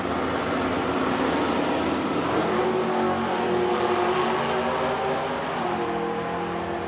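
Drag racing cars, a Mustang and a Camaro, running down the strip at an Edmonton drag event: a steady, loud engine roar heard from a distance, with no pauses.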